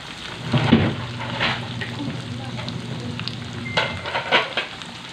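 Rambutan seeds fry and sizzle in a pan with occasional stirring scrapes, a continuous close crackle with a few louder bursts and faint voices nearby.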